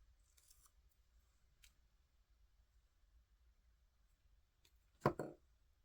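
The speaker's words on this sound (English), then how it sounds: "I'll come in with my scissors and trim." A single sharp snip of scissors trimming fly-tying material close by, preceded by faint small handling clicks in a quiet room.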